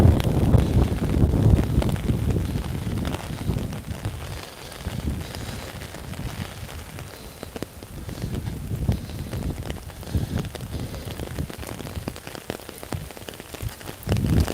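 Hurricane Ian's wind and heavy rain in Beaufort, a dense continuous roar of rain pounding surfaces with gusty wind buffeting the microphone, loudest at the start and swelling again toward the end; no speech.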